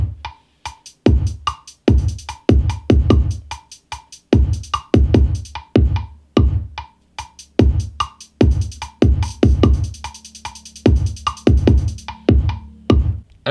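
Programmed GarageBand drum beat in a trap style, looping steadily with punchy low kicks and snares and a bright, ticking run of hi-hats filling the gaps between hits, loud and alone.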